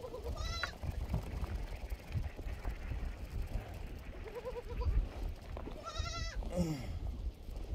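Several baby goats bleat in short, quavering cries, one early and a louder pair near the end, over steady outdoor wind rumble.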